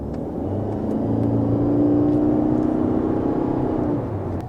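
A 2023 Toyota Corolla Cross hybrid accelerates from 20 km/h, with a steady rising motor whir and road rumble that swells and holds, heard from inside without talk.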